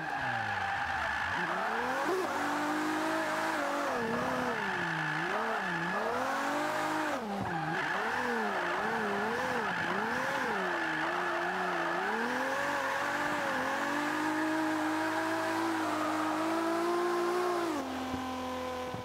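Toyota Supra drifting in the racing game Forza 5 on grippy tires, a loud, sustained engine note rising and falling with the throttle while the tires squeal continuously through slides.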